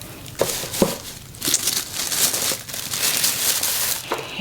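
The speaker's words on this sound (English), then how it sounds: "It comes wrapped in some tissue paper." Tissue paper crinkling and rustling as it is unwrapped from around a new makeup box, in several short crisp bursts with quieter handling between them, close up and with no talking.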